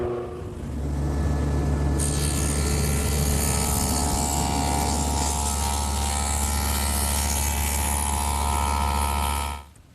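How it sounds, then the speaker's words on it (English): Table saw fitted with a stacked dado head set 3/4 inch wide and 1/4 inch deep, cutting dados into the wooden sides of a Shaker woodbox. A loud, steady motor roar runs throughout, growing brighter and harsher as the cut begins, then cutting off at the end. "So I'll cut the dados in the sides using my table saw, which I've set up with a stacked dado head cutter"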